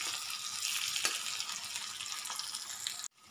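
Onions and green chillies frying in a pan while being stirred, a steady close sizzle with scraping stirs that stops abruptly at the end.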